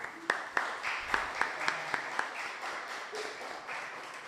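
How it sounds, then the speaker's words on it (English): A handful of people clap at a poetry slam in a nearly empty room, about eight sharp, sparse claps in a loose rhythm that fade out after a couple of seconds, with faint voices underneath. "Empty room, can I get an applause, please?"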